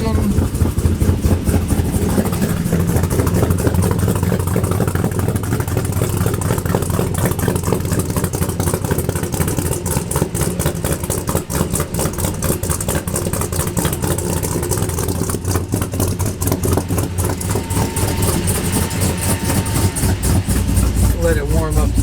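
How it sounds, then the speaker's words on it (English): A car engine idles steadily while warming up, a continuous low rumble that stays level and close throughout, with a voice talking faintly underneath. "Let it warm up a second, and I'll rev on it for you so you can get the full effect"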